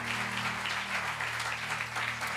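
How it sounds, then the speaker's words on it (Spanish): A church congregation applauds during a Sunday service, steady, moderately loud clapping running throughout, with a low hum beneath. "Gracias, don Jairo, por ese aplauso"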